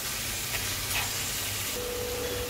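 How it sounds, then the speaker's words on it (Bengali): Taro leaves with chickpeas, turmeric and green chillies being stir-fried in a pan, giving a soft, steady sizzle and hiss with faint stirring, low and continuous throughout. "এবার এটাকে আমি ভালো করে নাড়াচাড়া করে ভাজা করে নেব।"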